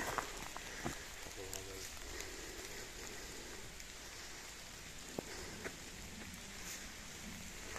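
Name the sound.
rain falling in Boscodon forest near the abbey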